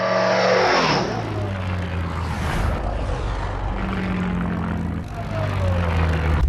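A Shark ultralight aircraft flies past with a loud, rising and falling engine and propeller drone, sweeping in pitch as it passes close by.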